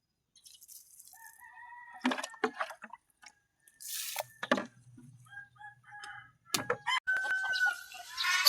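Chickens cluck and call in short, scattered bursts around a backyard vegetable garden, with one bird giving crow-like calls, moderately near and without talk.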